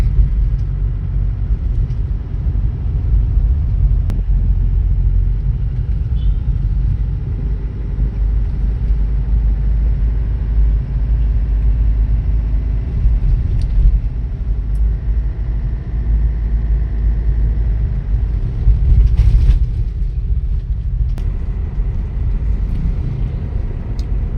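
Low, steady road rumble from a moving car on a narrow, congested street, with engine drone and passing traffic, loud and continuous from inside the vehicle.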